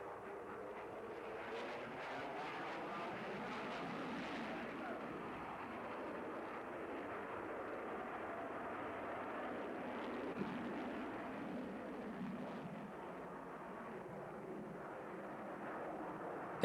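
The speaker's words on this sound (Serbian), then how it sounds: "Evo trenutka kada se avion gotovo zaustavlja i zatim vraća na rep izvodeći figuru zvona." A Su-27 fighter jet flies a bell manoeuvre at the 1994 Farnborough airshow, heard as a steady, faint, distant broadband roar that swells slightly and holds for the whole stretch.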